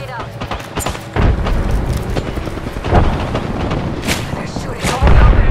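Gunfire and a grenade explosion sound in an Apex Legends match. Dense, loud shots and thuds are mixed with deep booms, including a strong blast near the end, while voices talk over the fighting.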